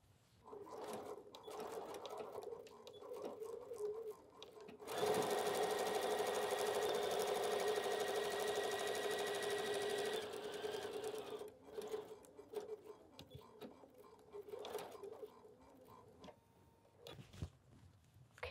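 A sewing machine runs steadily for about five seconds stitching a quarter-inch seam in quilting fabric, a close, even mechanical whir between quieter handling noises.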